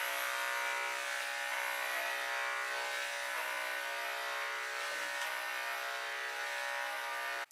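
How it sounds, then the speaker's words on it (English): Electric clippers buzz continuously while shaving a heavily matted pet, a steady, fairly quiet motor whine with a slight dip midway, heard alone before cutting off abruptly at the end. "I ended up shaving her because she was so heavily matted"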